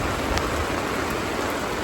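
Steady rain falls at night on Mount Prau while hikers climb, a dense continuous hiss of drops on surfaces, fairly loud and unbroken with no voices.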